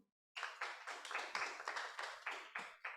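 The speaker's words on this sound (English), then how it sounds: "Wanna clap her for me now" Following a moment of silence, an audience at a debate event breaks into brisk, steady clapping, a run of close individual claps with no speech over it.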